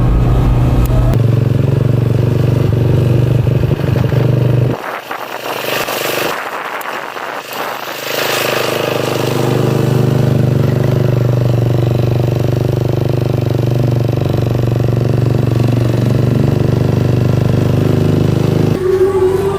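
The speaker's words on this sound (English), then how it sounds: "So on this road mostly scooters, but also there are some cars." Scooter engines drone steadily nearby on an Indonesian village road near Bromo, with a brief dip before another buzzes past and the traffic noise swells back to a constant hum.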